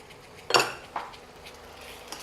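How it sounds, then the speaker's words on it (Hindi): A spoon stirs yogurt masala into tomatoes in a pan for a Marwari dahi aloo sabzi, giving a short burst of scraping and clinking followed by a softer knock and faint utensil taps, close and with no talk. "दही रो मसाला डालते अपन ने फटाफट हिलावना है"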